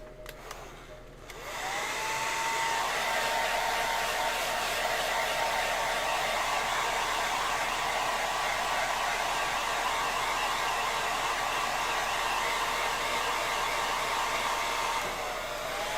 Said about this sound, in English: Let's speed this up with a hairdryer, shall we?